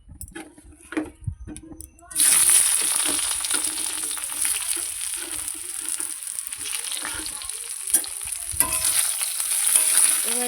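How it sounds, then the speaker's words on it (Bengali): Potatoes drop into hot oil already crackling with cumin seeds and bay leaf, bursting into a loud, dense sizzle after a couple of seconds of quieter clatter and then frying steadily up close, with stirring noises scattered through. "বাকি তেলের মধ্যে আমি জিরে দিয়েছি আর এখানে দেবো তেজপাতা ফোড়ন তো তেজপাতা ফোড়ন দিয়েই কিন্তু এবার আমি দিয়ে দেবো আলু"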